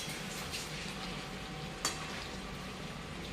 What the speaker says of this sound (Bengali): এখন রান্না কমপ্লিট হয়নি, চিকেনটা কষানো চলছে